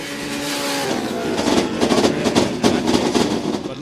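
A drag race car at the Liqui Moly Drag Wars 2024 event, running launch control and anti-lag, holds its engine at high RPM with a loud, rough, crackling rasp that grows more ragged and pulsing over a few seconds.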